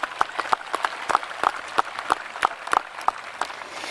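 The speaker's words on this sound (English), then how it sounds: "I think you need to give them a round of applause." At a 2024 high school graduation, the audience gives the rifle team sparse, scattered applause: distinct individual claps ring out irregularly over a quiet hall, fairly close and crisp.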